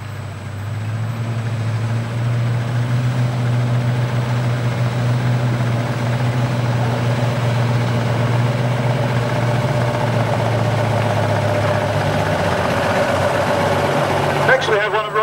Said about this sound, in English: a Cummins 14-litre engined 4000 series tractor unit, typical of road transport vehicles of the current time